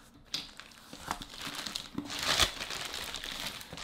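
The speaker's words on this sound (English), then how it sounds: "cut up the envelope" A paper envelope being cut open from above, with close crinkling and tearing rustles in several short bursts and a louder rip near the middle, no voices.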